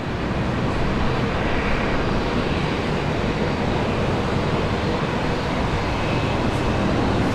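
Virgin Australia airliner roaring down a wet runway on takeoff at Brisbane International Airport in a severe storm, a steady, loud broadband rush of engine noise and spray that holds evenly throughout with no voices.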